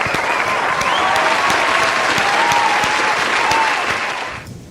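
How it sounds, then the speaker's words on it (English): Sustained applause from many hands among virtual event participants, dense and steady throughout, fading out in the final half-second. "let's give a good round of applause"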